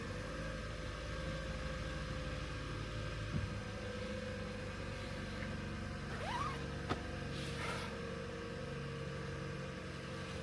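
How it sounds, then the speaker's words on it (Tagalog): A car engine idles steadily while warming up in the morning, a constant even drone with a few faint clicks and no voices. "Tayo ay magpapainit muna guys ng ano, ng sasakyan natin"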